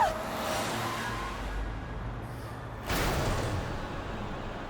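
A car slowing and coming to a stop, its low engine rumble steady under road noise before a sudden louder burst near the end as it settles, with no one talking.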